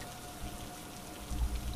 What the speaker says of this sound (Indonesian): Hanya suara kodok dari rawa dan gemercik hujan di atap seng yang menemani sunyi